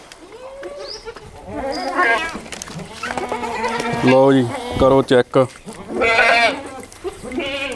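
Beetal goats and their kids bleat loudly and repeatedly at close range, mixed in with people talking nearby.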